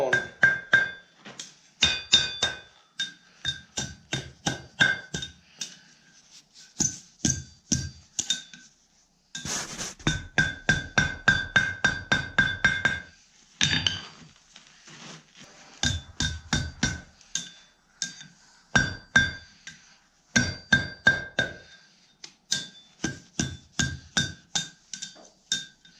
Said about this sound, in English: we're just going to go over to the horn of the anvil and start bringing it around.